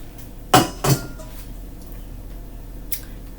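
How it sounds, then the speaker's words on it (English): Cake batter for a seven-layer chocolate cake, made from a packaged mix with water, oil and eggs, is stirred in a bowl, giving two loud close clinks in quick succession and a fainter one later. "I'm going to mix my ingredients"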